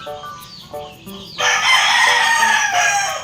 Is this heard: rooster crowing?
yes